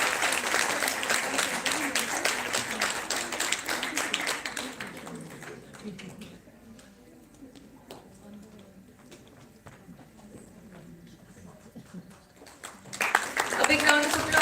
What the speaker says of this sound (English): A big round of applause for Mr.